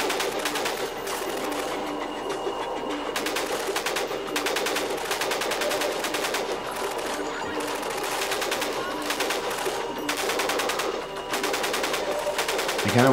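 Rapid, sustained gunfire in Half-Life 2 rattles on almost without pause for the whole stretch, loud and dense, with a sharper burst right at the end.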